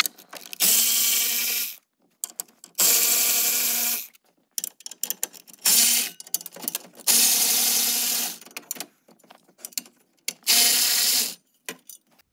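Rapid ratchet clicking while 10mm bolts are removed to free an access plate, coming in five long, loud bursts separated by short pauses and scattered single clicks, with no talking.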